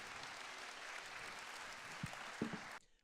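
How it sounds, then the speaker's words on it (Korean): Steady, moderately distant audience applause in a hall at a foundation launch event, a dense patter of many hands with a couple of thumps near the end before it cuts off. "큰 박수 부탁드립니다"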